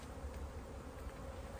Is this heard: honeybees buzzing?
yes